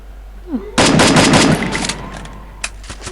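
Gunfire in the Free Fire video game erupts as a rapid burst of close, loud shots, then trails off into a few scattered single reports.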